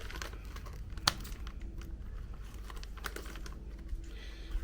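Scissors cutting open a mail parcel, with quiet crinkling of plastic packaging and one sharp snip, close and soft in a quiet room.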